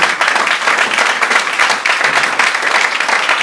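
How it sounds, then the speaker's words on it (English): A dense, loud round of applause from a summit audience, many hands clapping at once in a continuous roar that holds steady for several seconds. "give yourself a resounding round of applause"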